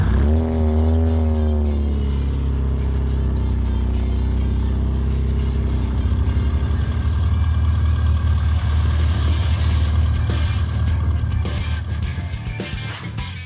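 A 1998 Rover MPI Mini Cooper S, freshly fitted with spark plugs, cranks and fires up, then runs and revs steadily with a loud, close, continuous engine rumble.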